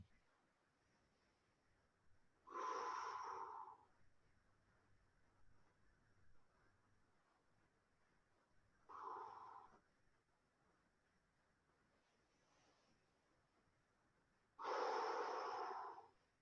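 Deep, forceful breaths during at-home Systema training, three long exhalations spaced several seconds apart in a quiet room, each one loud and breathy.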